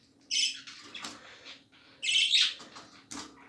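A pet budgerigar chirping up close in a few bright, quick chirps with small chattery calls in between, over a quiet room.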